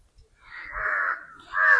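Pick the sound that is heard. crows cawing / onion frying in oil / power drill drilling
crows cawing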